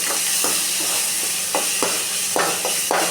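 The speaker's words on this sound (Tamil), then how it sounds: "நம்ம அரைச்சி வச்சுருக்கதை சேர்க்கலாம் லைட்டாக எண்ணெயில் வதக்கிக்கலாம்" Ground spice paste sautéing lightly in oil with curry leaves in a pan for Tamil rasam: continuous loud sizzle and hiss, broken by periodic scraping stirs of a spoon, close up.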